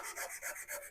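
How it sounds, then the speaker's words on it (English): Rhythmic rasping of sandpaper on a wooden aircraft rib, several quick back-and-forth strokes, close and even. "So by sanding it like this, just enough to clean it up"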